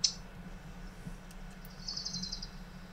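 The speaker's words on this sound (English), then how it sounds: "Do I hear birds in the background?" Faint, high bird chirps come and go in the distance over a low background hum, one brief call followed later by a short twittering run.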